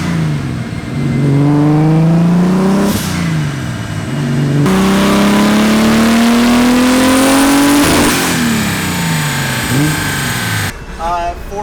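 A turbocharged BMW E36 with an S50 engine revs hard on a dyno in loud, close sweeps that climb in pitch, dropping between pulls, with voices talking around the runs.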